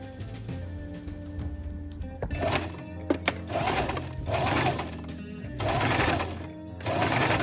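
A sewing machine runs a qipao sleeve seam from the armpit to the end of the sleeve, starting after a quiet moment and then whirring in several close, loud bursts with short gaps between them.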